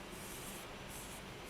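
Steady soft rubbing and wiping as wet alcohol ink is dried off the front of a mixed-media polymer clay bowl, a continuous close hissy friction with no talk.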